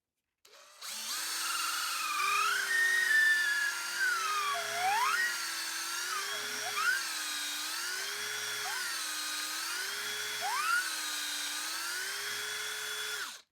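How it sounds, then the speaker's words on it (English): A power drill reaming out a fishing rod handle and butt grip, a sustained close whine that wavers up and down in pitch as the bit bites in and eases off, steady throughout. "Reamed out our handle and our butt grip."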